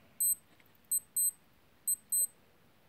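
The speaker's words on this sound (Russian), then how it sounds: "Сам будильник звонит вот так." A Casio G-Shock G-9000 Mudman wristwatch alarm sounds in short, high, bright beep bursts, some single and some doubled, with quiet gaps between.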